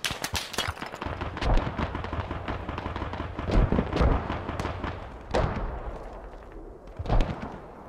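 Mortar rounds booming in the video game Squad on Lashkar Valley, a run of heavy thuds and blasts spread through the clip, some close and loud, others more distant, with no voices.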